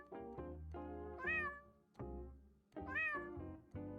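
A cat meows twice in the video game JudgeSim as it is petted, each call a clear rising-and-falling mew standing alone over soft background game music.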